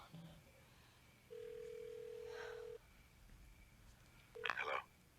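A telephone dial tone hums steadily for about a second and a half at moderate volume, followed later by a short burst of a tone and dial noise, with faint room noise beneath.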